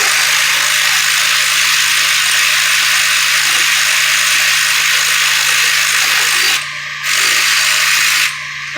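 A ratchet works loose a bolt on a 1998 Jeep Cherokee during water pump and thermostat removal, a steady close mechanical clicking that runs nearly continuously, with two brief pauses near the end.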